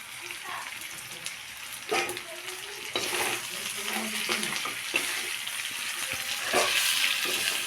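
Garlic and ginger fry in a pan with a soft sizzle and stirring scrapes, irregular clinks and movements over a steady hiss, fairly close.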